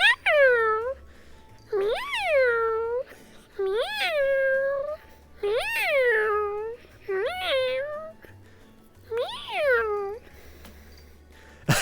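A house cat meows several times in a row, each call a clear, close rising-and-falling cry with short pauses between them, while a person speaks quietly in the background.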